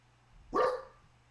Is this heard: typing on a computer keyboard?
no